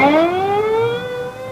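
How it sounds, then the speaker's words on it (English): An ambulance siren sound effect from a radio drama wails with a bright, rising tone that levels off as the vehicle pulls away, loud and alone without speech. "The ambulance is pulling away."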